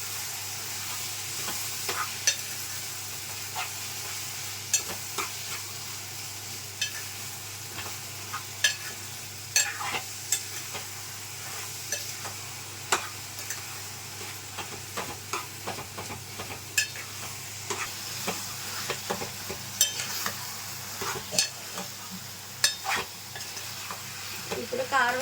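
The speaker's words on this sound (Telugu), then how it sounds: "ఇప్పుడు బాగా కలిపేసుకున్నాం దీన్ని." A spoon stirs a tomato vegetable curry in a pan, knocking and scraping against the metal in irregular clicks over a low, steady sizzle, with no talking.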